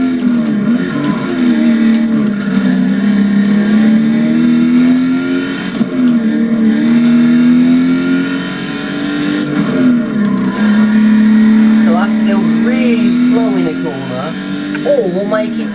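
Ford Shelby Mustang GT500 drives hard with a loud, continuous engine drone that rises and falls as it revs through the gears, with someone talking over it throughout.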